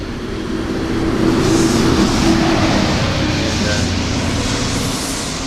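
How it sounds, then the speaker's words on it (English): A city bus passes along a street during a festival in Japan, a broad low engine rumble and road noise swelling through the middle and easing off, steady and fairly close, with crowd ambience behind. "And there's a bus coming."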